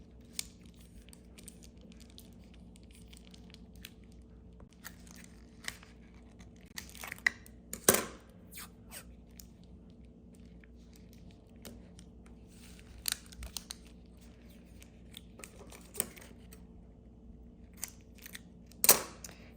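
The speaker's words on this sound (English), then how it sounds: "I'm going to secure the sides with this heat tape" Heat tape being torn and pressed onto the sides of a keychain for an iron-on ink craft, heard as scattered sharp tearing and crinkling snaps over a quiet room hum, with a few louder rips.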